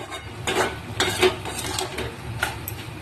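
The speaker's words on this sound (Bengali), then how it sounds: "এবার ভালো করে আমি সবজি আর শাকটা কিন্তু ভালো করে নাড়াচাড়া করব" A spatula scrapes and clatters steadily through vegetables and leafy greens in a cooking pan, producing a continuous stirring rattle with soft sizzling beneath and no talking.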